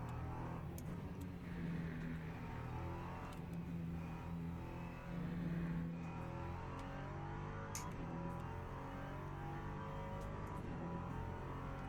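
A race car engine in the video game Le Mans Ultimate drones continuously at a steady level, its pitch shifting slightly as it holds speed, with no voices.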